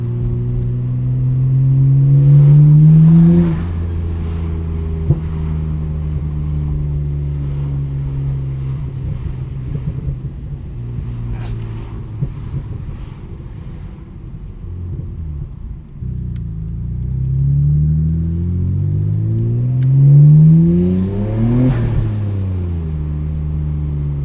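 A 1999 Nissan Skyline R34 GT-R with its twin-turbo engine revs up loudly twice, the pitch sweeping up and back down each time, with a steady idle rumble in between and no talk.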